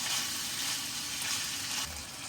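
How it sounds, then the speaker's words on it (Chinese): Green peppers being stir-fried in a pan give a continuous, dense close-up sizzle with soft shifting scrapes as they are tossed, steady throughout and free of speech. "翻炒均匀"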